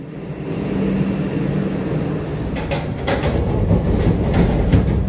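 The 22896 Puri–Howrah Vande Bharat Express pulls out of Jajpur Keonjhar Road station: a continuous low rumble heard from on board, with faint rattles and clicks building steadily over it.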